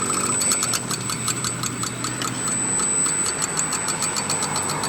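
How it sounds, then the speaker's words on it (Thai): A rice-field plough tractor's engine runs as it moves, giving a steady mid-pitched drone threaded with rapid, regular ticking knocks that continue throughout with no voices. "เดี๋ยวเราก็จะขยับรถ ไถนาก่อนนะครับ"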